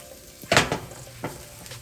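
Long grain parboiled rice is tipped and tossed in a hot seafood skillet, giving two short crackling sizzle bursts over a faint steady frying hiss.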